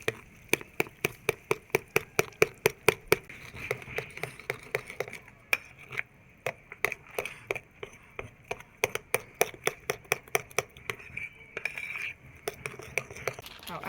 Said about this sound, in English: I'll mix it like this. Mix it very well.